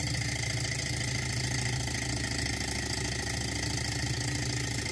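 A small Stirling engine generator runs continuously, close up, with a steady rapid mechanical chugging and a whirring hum that stays even in loudness throughout, with no talk.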